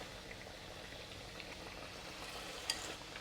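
Battered Nian Gao, glutinous rice cake, frying in a pan of oil, a faint steady sizzle and crackle throughout with one small pop near the end.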